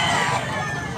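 Chickens cluck and a rooster crows in a brief burst, several birds close together amid a busy background at a gamecock market in Tabunok, Cebu.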